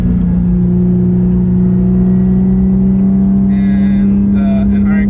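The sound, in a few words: Porsche 911 and RX-7 cars driving on track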